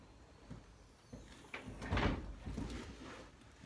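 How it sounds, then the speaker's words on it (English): A vertical lambo-style car door on a Fiero opens on its own with a few soft mechanical clunks and a faint whirring swing, quiet and close, with no voices. "Here's an example of the door operating on its own."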